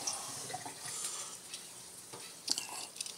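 Water from a tap runs softly over a hand or fingertip, a faint, steady splashing with a few small clicks and bumps near the end.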